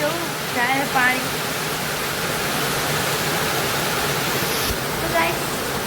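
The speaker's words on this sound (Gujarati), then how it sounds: "વરસાદ ચાલુ થઈ ગયો જોરદાર." Heavy rain pours outside a home, a loud, steady broadband hiss that fills the whole clip, with a voice talking briefly over it near the start and end.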